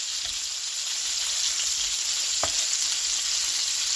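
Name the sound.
ground chicken burgers frying and sizzling in a pan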